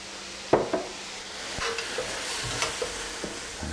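Shrimp egg roll vegetables sizzle steadily in hot oil with a light splash of soy sauce, while a utensil scrapes and taps the pan in irregular strokes under a constant hiss, and nobody speaks.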